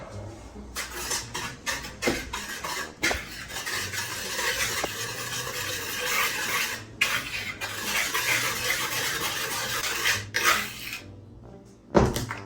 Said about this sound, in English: Then mix thoroughly with a whisk.